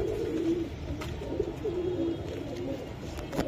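Teddy pigeons give repeated low, throaty coos over a steady murmur of background noise, with faint chirps and clicks in the mix.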